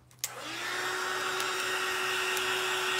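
A hair dryer clicks on and settles into a steady, close whirring hum as it blows over black paint, running without pause to the end.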